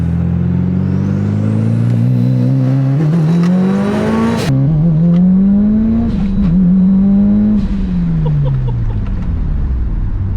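A Mitsubishi Evo 9 fitted with a Link ECU holds rolling launch control with anti-lag. Its engine revs loudly and close, the pitch climbing and falling in surges with sharp crackles and a sudden cut.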